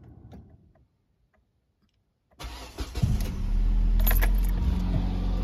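A car engine starts after brake pad replacement: a few faint ticks and clicks, a pause of quiet, then the starter cranks and the engine catches into a loud, steady idle, close by.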